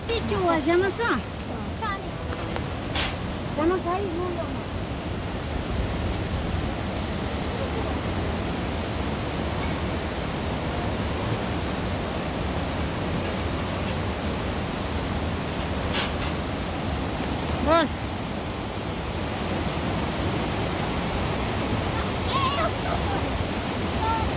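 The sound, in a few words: heavy rain falling outdoors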